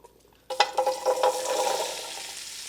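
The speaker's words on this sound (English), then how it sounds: "It's nice and hot, and so immediately you want to go ahead and put in your veggies." Vegetables dropped into a hot pot after browned meat is removed, bursting into loud sizzling at once, then crackling steadily with a few stirring scrapes, close and alone.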